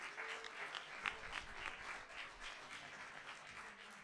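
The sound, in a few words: audience applauding itself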